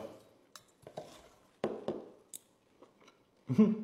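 Grilled pork belly (liempo) being chopped on a board: a handful of sharp, irregularly spaced knife chops, close and fairly quiet, with a heavier cluster of strikes at the end.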